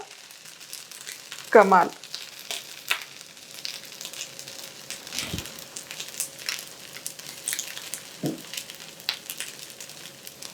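A ghavan pancake frying on a griddle, a soft continuous sizzle with light crackles and a couple of louder scraping knocks, close and low, with brief talk over it.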